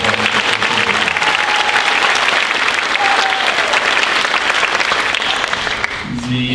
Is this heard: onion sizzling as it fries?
no